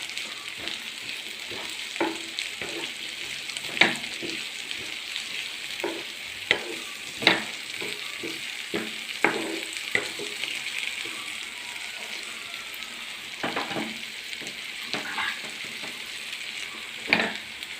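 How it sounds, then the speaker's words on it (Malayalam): Small red onions sauté in a pan for chicken chukka, with a soft steady sizzle broken by scattered sharp clicks and scrapes as they are stirred, close and moderately quiet. "ഇതിനകത്തേക്ക് കുറച്ച് ചുമന്നുള്ളി ചെറിയ ഉള്ളി ചെറുതായിട്ട് വാടക്കാം"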